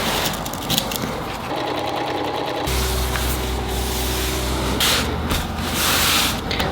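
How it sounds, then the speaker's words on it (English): A sewing machine stitches canvas fabric for a wood-and-canvas patio chair, running in a steady mechanical whir with shifting motor pitch, close and loud, pausing briefly and resuming across the stretch with no talking. "Just gonna do a little stitch on the outside to make this look clean and finished."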